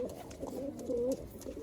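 Malwai pigeons kept for sale coo in a steady, throaty, wavering stream nearby, fairly soft and without talk.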